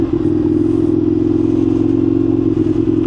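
Indian FTR1200 motorcycle ridden off-road, its steady, loud engine drone continuous throughout with faint clattering and scraping from the trail underneath.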